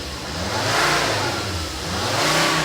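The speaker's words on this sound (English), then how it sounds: "Now when you give it a rev up" A warm car engine is revved twice in close succession, each rev a loud swelling roar that settles back toward idle, with no talk over it.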